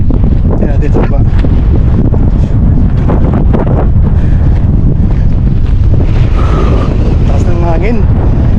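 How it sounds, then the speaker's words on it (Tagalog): Strong wind buffets the microphone at a hanging bridge among mountains in Al Hasa, Hofuf, a loud, continuous rumbling roar with gusty swells and a few faint background sounds. "Taas ng hangin."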